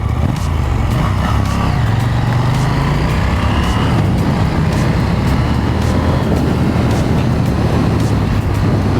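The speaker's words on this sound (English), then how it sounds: "There's just something about a twin that just sounds, you know, sounds gruff." A KTM 890 Duke twin-cylinder motorcycle rumbles steadily and loudly throughout, its gruff engine note blended with rushing wind while riding on a road.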